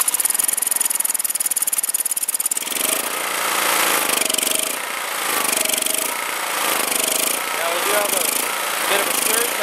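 A Honda EX1000 generator, choke on, fires after a pull start: a few seconds of rough, rattling clatter, then a steady running drone with a rhythmic surging rise and fall.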